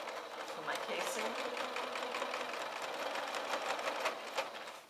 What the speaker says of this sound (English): So here I'm just running again a second seam.